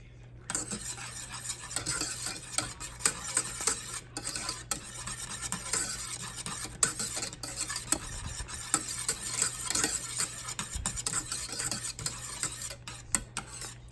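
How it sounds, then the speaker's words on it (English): A frog eye salad pudding mixture cooks on the lowest heat in a pot, with constant close stirring and scraping, soft bubbling, and intermittent utensil clinks throughout. "Now I've turned it down to the lowest heat, which is like a simmer. And let that bubble up a little bit more."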